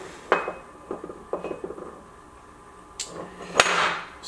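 Metal parts from a cracked Polaris RZR rear differential clank and clink as an old gear is pulled off on a homemade side-by-side build, a handful of sharp close knocks with a louder ring near the end and no talking.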